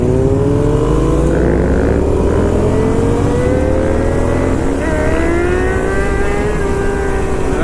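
A motorcycle engine drones loudly and close, pitch climbing gradually as it accelerates through gears, with wind buffeting throughout.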